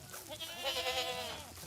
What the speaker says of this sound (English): The goats are in there too.